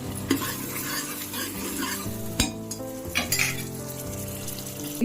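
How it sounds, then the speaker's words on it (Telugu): Biryani masala fries and sizzles in a pan while a metal spoon stirs and scrapes it, giving soft continuous crackle broken by a few sharp clanks of utensil on the pan, close and fairly quiet. "వేగుతూ ఉంటుంది పచ్చివాసన పోయేంత వరకు మిక్స్ చేసి వేగనివ్వాలి"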